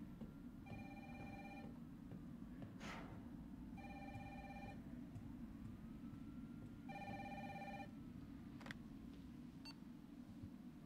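Telephone ringing in Resident Evil 3 Remake: three clear electronic ring bursts spaced evenly over a low in-game background rumble, with a few brief clicks between rings and no talking.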